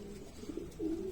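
Racing pigeons coo in low, steady murmurs, a soft continuous rumble that swells louder toward the end, heard close and without talk.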